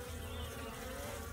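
A dense, steady buzzing of many honey bees at a hive entrance close by, continuous and even, with no voices.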